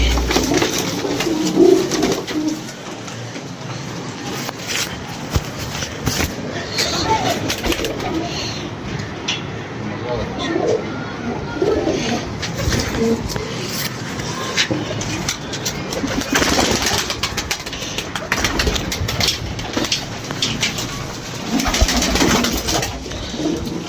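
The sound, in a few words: pigeons cooing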